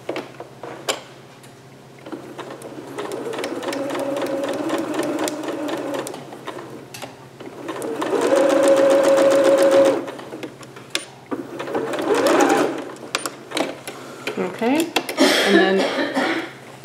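A home sewing machine stitches a seam on a cap-sleeve dress in bursts of rapid, close mechanical chatter, three main runs separated by short pauses, with a little speech heard between them.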